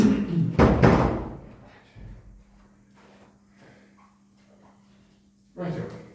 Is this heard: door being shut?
yes